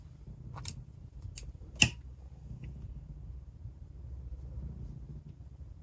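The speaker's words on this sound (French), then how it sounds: "on coupe le fil" Scissors snip through sewing thread close by, a few short crisp cuts near the start, the sharpest around two seconds, over a quiet room hum.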